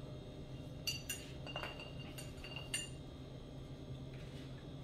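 A few faint, sparse clinks against a glass wine bottle as a pouch with a cork inside is pushed in, with a quiet hum of room noise between them.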